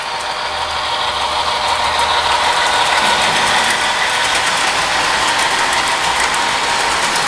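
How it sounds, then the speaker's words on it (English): A heavy DC model train runs continuously on a layout with a steady mechanical whir and rhythmic clicking of wheels on track, fairly close and even throughout. "It's really a heavy train too."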